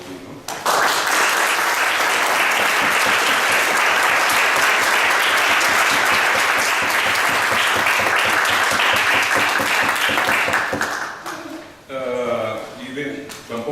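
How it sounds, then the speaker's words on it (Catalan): Loud, dense applause from an audience at an award ceremony, rising quickly and holding steady for about ten seconds before fading, followed by a voice speaking. "Jo crec que els han d'aplaudir, no?"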